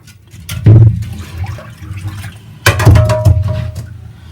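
Water splashes over fresh sardines (mathi fish) being rinsed before scaling and cleaning, with two short, fairly loud bursts of pouring and sloshing separated by quieter dripping and handling.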